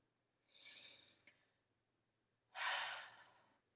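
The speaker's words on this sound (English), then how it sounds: "take one more deep breath with me" One slow, deep breath taken close by: a soft inhale lasting about a second, a short pause, then a louder, breathy exhale, with quiet between them.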